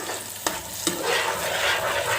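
Chicken fry sizzles steadily in a pan while it is stirred, with two sharp spatula knocks early on. The frying is close and continuous, and there is no talking.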